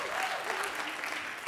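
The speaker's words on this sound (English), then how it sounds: "let me know with your cheers and applause if you're familiar with Boom Chicago" Brief burst of audience cheering and applause at a hackathon event, a continuous wash of clapping and crowd noise at moderate distance, lasting about a second and a half.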